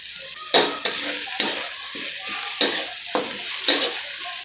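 Grated coconut and garlic fry loudly in a kadhai, with a bright continuous sizzle punctuated by repeated scraping strokes of a spatula against the metal, close and alone.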